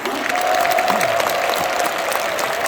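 An audience claps steadily in a full, continuous burst at a church leadership inauguration event, with a faint tone and murmuring voices mixed in.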